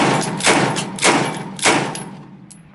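Three sharp reports from a CF-W A Bolt rifle, fired two-handed, spaced about half a second apart, each loud and close with a short decaying tail, fading out after the last.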